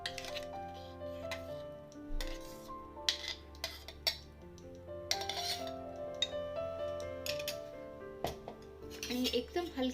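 A spoon stirs green vegetable paste into Bhogi sabzi in a pan, producing scattered metallic clinks and light scrapes against the pan over a steady tonal background.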